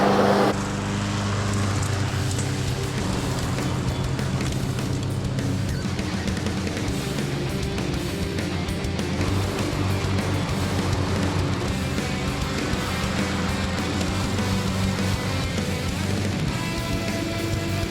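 Honda HRX217VYA walk-behind lawn mower running with its blades spinning, a loud steady engine drone with constant whirring, unbroken throughout.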